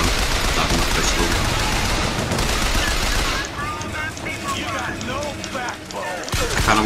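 Rapid automatic fire from a machine gun in BioShock Infinite, a sustained dense roar of shots for about three seconds, then quieter bursts amid game noise and chatter, with a heavy thump near the end.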